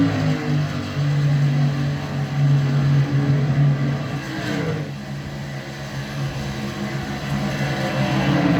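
A race car running at Charlotte, its engine droning steadily and loudly with a brief shift in pitch partway through, heard from close by without any talking.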